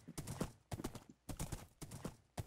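Video game horse hooves clip-clop in quick repeated bursts, a steady galloping rhythm of close, sharp thuds separated by brief pauses.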